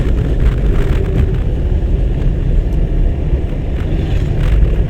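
Car engine in a driving-school car held at a steady low rumble as the driver clutches in and shifts into fourth gear, continuous and fairly loud with no talk.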